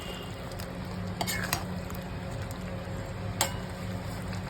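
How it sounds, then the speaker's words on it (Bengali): Raw banana curry with garam masala and ghee stirred in a pot, a constant low sizzle and hum with a few sharp utensil scrapes and clinks against the pan. "ভালো করে নেড়ে চেড়ে নেব"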